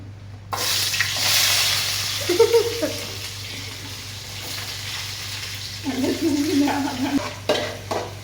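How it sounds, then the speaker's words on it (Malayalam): Onions and cumin sautéing in hot oil, with a steady close sizzle and two bursts of stirring scrapes. "നമ്മളിനി ഉള്ളി വാട്ടുകയാണ്."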